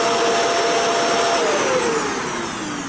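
A lift-away upright vacuum cleaner runs loudly and continuously close by, a harsh steady whine with a faint shifting tone that drops slightly toward the end.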